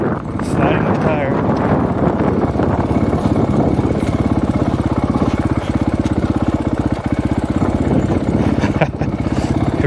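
A mini bike engine puttering steadily as it rolls downhill through the Arizona desert with the rear brake held, close and loud, with wind buffeting the microphone.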